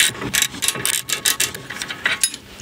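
A ratchet wrench fitted with a Torx 45 bit turns a bolt during Tesla suspension work on the tie rods and hub carrier, giving rapid repeated clicking bursts in a steady back-and-forth rhythm, close and clear with no talk.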